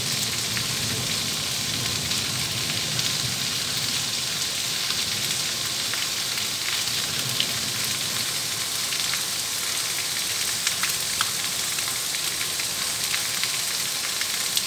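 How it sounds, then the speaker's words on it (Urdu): Heavy rain pours steadily and loudly for the whole stretch, a dense, constant hiss of drops on surfaces with no voices. "بارش شروع کی گئی ہے، بڑے زور کی بارش ہے"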